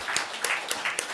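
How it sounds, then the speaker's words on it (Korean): Encouraging applause from a church congregation during a Sunday service, a soft, even patter of clapping with a few louder claps recurring in a loose rhythm. "우리 한번 격려의 박수를 한번 올려드립니다"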